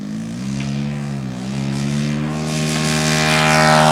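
Seagulls Spacewalker 1.20 RC model airplane on its maiden flight, the propeller engine droning loudly and steadily, rising and swelling in pitch as it climbs away, with no talk over it.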